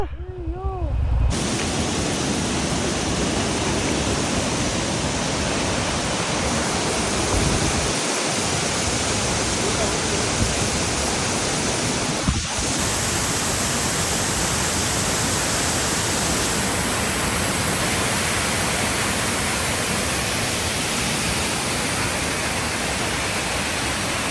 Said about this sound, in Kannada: ಅಲ್ಲೇ ವಾಟರ್ ಫಾಲ್ಸು ಬ್ರೋ.